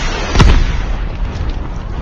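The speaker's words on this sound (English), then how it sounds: "Why are you chucking all your grenades?" A grenade explodes in a battle royale video game, one loud boom that rolls into a long, rumbling tail. No one speaks.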